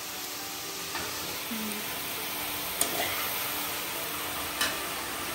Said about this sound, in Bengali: এবার আমি এইভাবে নাড়তে থাকবো